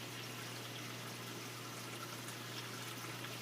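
Water from a reef aquarium overflow pours down into a filter sock with a faint, steady rush and trickle. A low hum runs underneath, and no one speaks.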